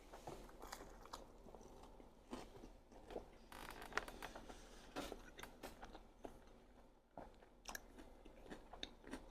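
Chewing and biting into sweet and sour Chinese takeout, close-up crunchy mouth sounds with irregular bites and soft scraping, quiet and without talk.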